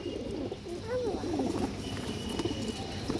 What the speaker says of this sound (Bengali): পাল্লার কবুতর এটা দর্শক চোখ দেখেন